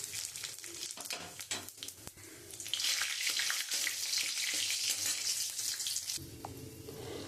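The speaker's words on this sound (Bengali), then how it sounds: "আমি এই তেলের মধ্যে একটা শুকনো লঙ্কা, তেজপাতা আর জিরে ফোড়ন দিয়ে দিচ্ছি।" Dried red chilli, bay leaf and cumin seeds crackle and sizzle as they hit hot oil, a loud steady frying hiss that swells midway with scattered pops, then settles into a lower sizzle.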